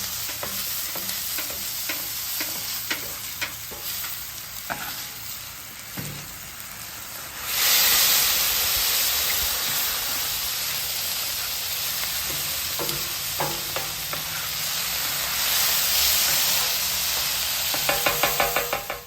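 Steak, onions and asparagus stir-fry on a flat griddle, a steady sizzle swelling louder midway as a spatula scrapes and taps the metal in repeated strokes, with a rapid clatter near the end.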